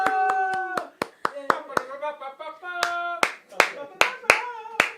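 Sharp, close handclaps ring out in a quick rhythmic pattern from a comedy show audience, around a dozen and a half distinct claps, while a voice chants or sings over them.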